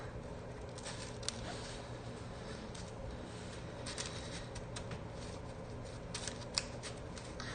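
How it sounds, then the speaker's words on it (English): A deck of playing cards being shuffled, with soft continuous riffling and flicking patter throughout and a few sharper clicks, faint and heard alone. "Let's shuffle all these cards up."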